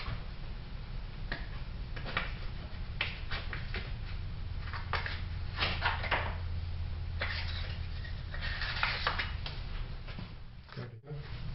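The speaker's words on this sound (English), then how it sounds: "The clicking noise you heard is because the miter gears have some broken teeth" Mitre gears with broken and missing teeth on an old planer machine, giving irregular clicks and ticks over a steady low mechanical hum and noisy grinding, moderately loud and close.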